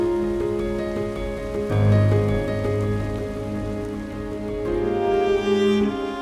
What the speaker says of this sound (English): Today, we've got rain on and off.